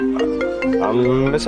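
A mobile phone rings with an incoming call, playing a short melodic ringtone of sustained tones at close range in a television drama scene, with possible speech mixed in.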